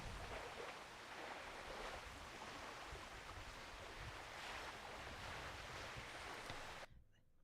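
Ocean waves played as a background sound effect give a steady, faint wash of surf that rolls on evenly, then cuts off abruptly near the end.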